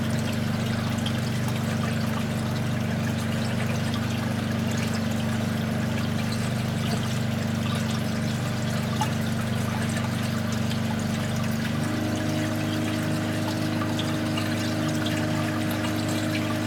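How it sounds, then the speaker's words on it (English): Treated water flows from a weir and drains onto a bed filter beneath the reaction chamber of a wastewater recycling system, a steady close trickling wash under a constant pump hum. "As it leaves the weir, it will drain down onto a bed filter that's positioned underneath the reaction chamber."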